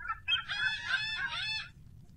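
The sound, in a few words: loud birds, rooster crowing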